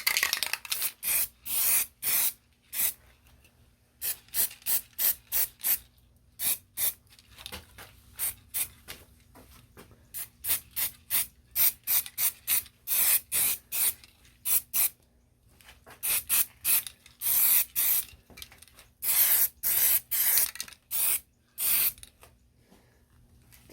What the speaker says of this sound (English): Now Aerosol cans are the best for when it comes to doing a small job.